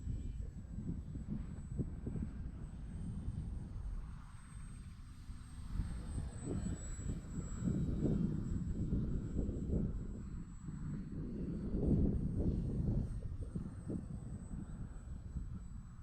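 An electric-motored RC airplane flies overhead, its motor a faint, steady drone that swells and fades slightly as the model moves through the air at a distance.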